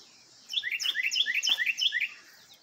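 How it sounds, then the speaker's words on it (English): Birds chirp right overhead on a spring morning, a quick run of bright, repeated, descending tweets lasting about two seconds against a quiet background. "Birds right overhead."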